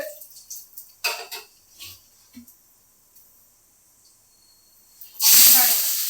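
Cinnamon and cloves dropped into hot oil in a pan. A few soft clinks and rustles come first, then a loud, sudden sizzle bursts out near the end and keeps going.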